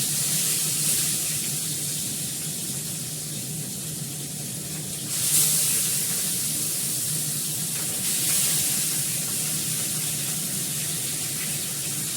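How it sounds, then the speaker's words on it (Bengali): Fish fries in a pan of oil with a strong, continuous spattering sizzle that swells louder twice, close and steady for about twelve seconds, with no voices over it. "মাছটা ভাজা হোক"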